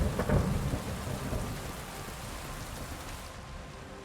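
Video game rain pours steadily while a low thunder rumble rolls through near the start and fades into the continuous downpour, with no talking.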